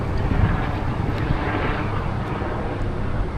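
Steady broadband roar of a helicopter overhead during an e-bike ride from Moore Park toward Bondi Junction in Sydney, continuous and fairly loud, blended with wind buffeting the microphone.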